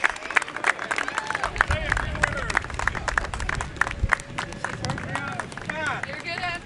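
A crowd in Washington DC breaks into applause for truck drivers delivering the US Capitol Christmas tree, with clapping and cheering, while voices chatter loudly through it.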